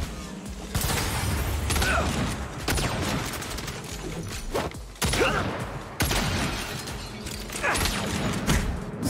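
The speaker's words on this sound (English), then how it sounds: "Grenade." Loud bursts of grenade explosions and gunfire in the game Saints Row boom and crash repeatedly across the stretch, with sharp impacts separated by dense rumbling noise.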